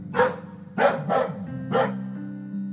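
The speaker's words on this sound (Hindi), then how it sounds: "कोई आवारा कुत्ता रात के सूने रास्ते पर भौंक रहा था।" A stray dog barks at night on a deserted road. Four sharp barks come close together over about two seconds, clear and fairly near, against a quiet background with a low steady hum.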